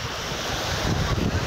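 Sea waves wash onto the shore at Dadar Chowpatty near Shivaji Park in Mumbai, with a steady broad rush of surf and wind noise on the microphone and no speech.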